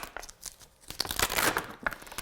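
Crinkly peeling and tearing of a large stamp off its thin sheet, close by, with a few sharp crackles over a steady rustle.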